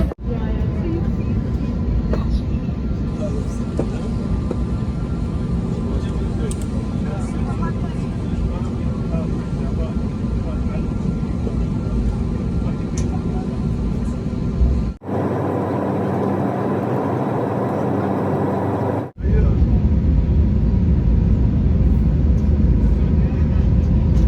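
Steady broadband roar of an airliner cabin in flight from Abu Dhabi to Belgrade, a constant loud drone throughout with a brief dip in tone midway before the hum resumes.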